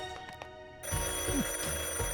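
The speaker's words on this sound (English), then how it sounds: "Come on, answer the phone." Telephone ringing in an animated comedy scene, a loud trilling ring that starts abruptly partway in and continues steadily, with a voice faintly under it.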